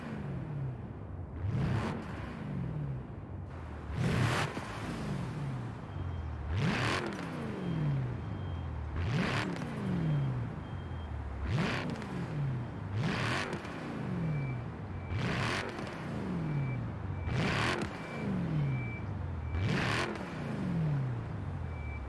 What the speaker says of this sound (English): we're going to give it a few revs from the inside and outside